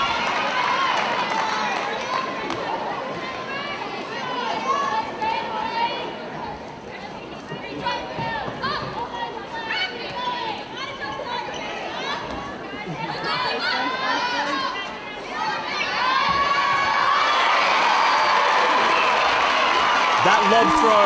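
Netball grand final crowd cheering loudly, a sustained roar of many voices with shouts and chatter that swells again near the end.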